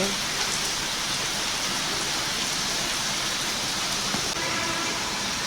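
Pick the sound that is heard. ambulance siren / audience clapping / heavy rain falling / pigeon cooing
heavy rain falling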